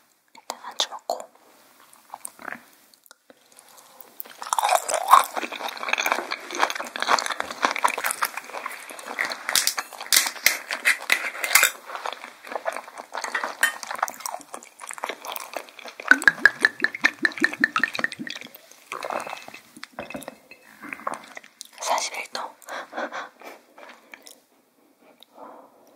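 Someone eats raw tuna sashimi alongside a traditional distilled soju, with close, soft chewing and biting sounds that come and go over about twenty seconds, mixed with quiet whispery breaths and small mouth noises.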